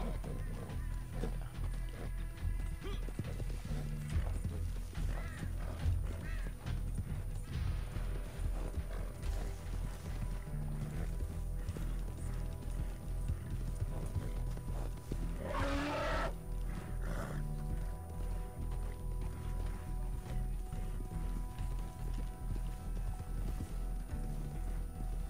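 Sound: horse hooves clip-clopping, from a video game

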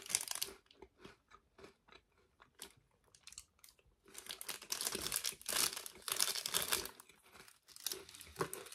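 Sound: eating a crunchy Oreo-like cookie

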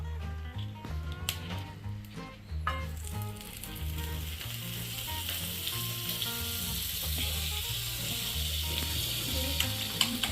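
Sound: butter sizzling on a preheated dosa pan

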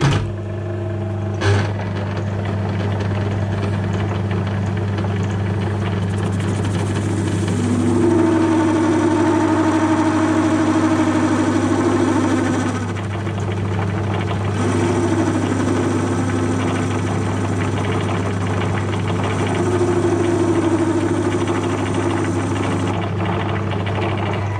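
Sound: lathe spinning too fast while parting off, chatter

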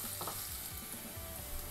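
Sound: green chillies sautéing in a pan

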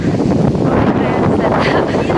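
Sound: wind blowing

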